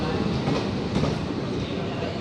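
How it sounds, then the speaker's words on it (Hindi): Kasganj–Kanpur Anwarganj special train arriving at platform 1 at Rudain station, a steady close rumble of rolling wagons with faint clatter and no clear voices. "कासगंज से चलकर कानपुर अनवरगंज जाने वाली स्पेशल ट्रेन बैग 9 लोकोमोटिव के साथ देखिए आ गई प्लेटफॉर्म नंबर 1 पर"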